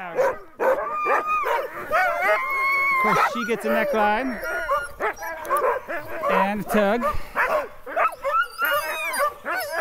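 Sled dogs on an Alaska mushing trip bark, yip and whine excitedly while being harnessed, a busy overlapping chorus nearby that continues under someone talking.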